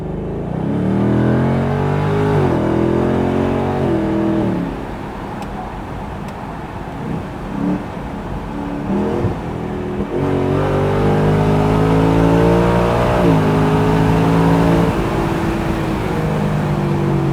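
A loud, deep naturally aspirated V8 engine of a 2024 Ford Mustang GT revs up and down repeatedly, rumbling between climbs, close and alone with no talking.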